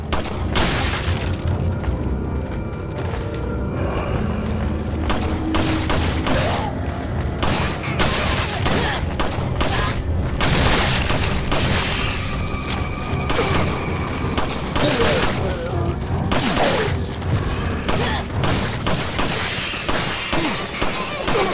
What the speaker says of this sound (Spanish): Tiroteo